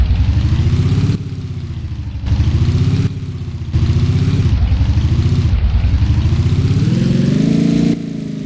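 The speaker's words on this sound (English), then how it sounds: "we're going to spawn in the MT-07 first. This bike still has the stock sounds." Stock engine sound of an MT-07 motorcycle in the Roblox video game, a loud continuous drone that rises and falls through repeated revs and gear-like steps, with no talking over it.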